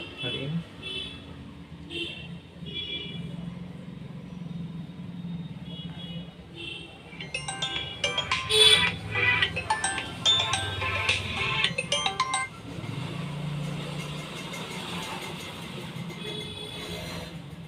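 A mobile phone rings with a repeating electronic tone from a device with a faulty wireless Bluetooth speaker connection, sounding mid-clip under ongoing conversation and background noise.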